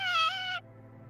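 A single cat meows once, short and fairly close, the tone dropping off abruptly, leaving a low steady hum underneath.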